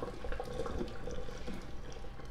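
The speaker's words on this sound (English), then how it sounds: "I'm gonna pour all the water, no water behind, and get a facial at the same time." Water poured off boiled potatoes from a pot into a sink, a soft continuous splashing and trickling at moderate to low volume, with faint clatter, steady for a couple of seconds.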